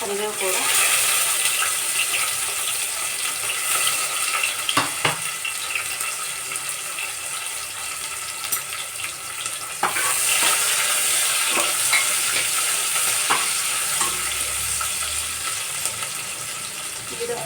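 Food sizzling steadily in a hot pan, with occasional scraping and clinking as it is stirred, loud and close.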